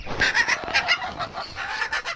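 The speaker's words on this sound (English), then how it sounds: "American Classic, good old Rhode Island Red." Bantam Rhode Island Red hen clucking among young birds, a run of close, uneven clucks and chatter with no one talking.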